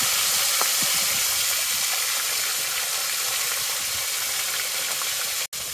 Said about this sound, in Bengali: ইলিশ মাছ ভাজা হয়ে গেছে